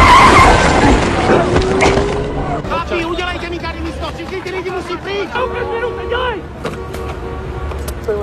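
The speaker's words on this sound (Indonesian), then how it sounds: "dia pun harus ketabrak mobil dan berhasil diamankan oleh polisi setempat" In a film scene from The Gray Man (2022), a car skids and hits a man: a loud burst of skidding noise opens the clip, followed by people talking over a busy background.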